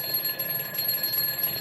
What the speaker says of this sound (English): I had to turn off my alarm.